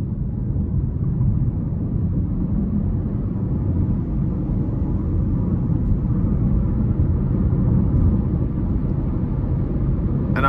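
Inside a 2024 Buick Envista with a 1.2-liter three-cylinder engine and a six-speed manual, a steady low engine drone and road rumble hold constant under gentle throttle, with no voices.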